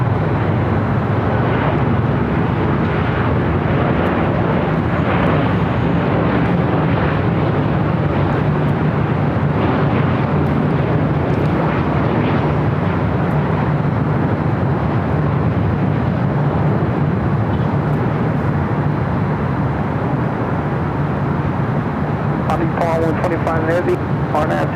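A steady, loud broadband roar from an airliner at LAX, flight 125 bound for Tokyo Haneda, holding at a constant level throughout without a break.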